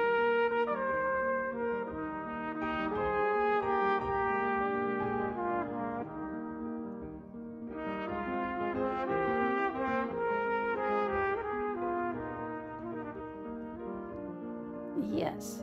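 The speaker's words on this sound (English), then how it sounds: "Yes, that's the sound of the cornet." A cornet plays a mellow, moderately soft melodic passage of sustained harmonic notes with short pauses, heard alone in a brass instrument lesson.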